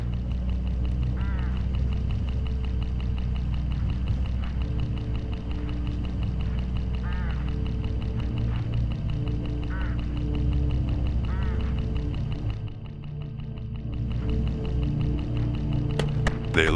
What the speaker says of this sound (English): Look, hooded crows all along this road.